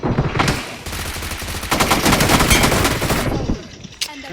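Rapid automatic gunfire from a team deathmatch video game shootout, dense bursts of shots rattling continuously for several seconds, then tapering to a few isolated reports, with friends' voices chatting over it.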